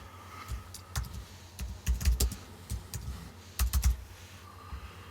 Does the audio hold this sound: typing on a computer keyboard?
yes